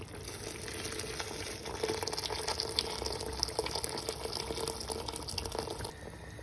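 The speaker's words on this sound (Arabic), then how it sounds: "هنزل بميه مغليه على الفراخ بتاعتي تغطيها تماما" Boiling water poured over chicken in a pot, with pomegranate molasses, for Libyan pasta; a steady, fairly faint rush and bubbling hiss of liquid runs the whole time with no talk.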